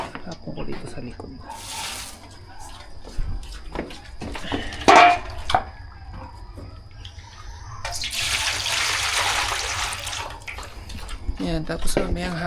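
Old water is tipped out to be replaced, a loud rushing splash midway after scattered knocks and handling noises, with people talking nearby.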